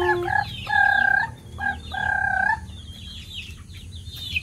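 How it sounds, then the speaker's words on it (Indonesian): Bangkok chickens with feathered feet crow twice in long, clear, fairly close calls, followed by softer scattered clucks and chirps. "Ayam Bangkok ini, berbulu kakinya."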